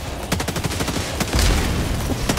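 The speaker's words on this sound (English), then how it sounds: "That was a warning shot." Rapid bursts of gunfire in a video game, a quick string of sharp shots followed by a heavier boom, loud and close with no voices over it.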